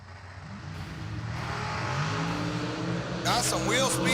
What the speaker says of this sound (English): Love hearing him clear those big old throaty engines out.